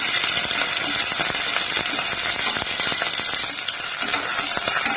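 Sliced green chillies and curry leaves sauté in hot oil for a poori masala, producing a loud continuous hiss broken by scattered clicks and scrapes of stirring.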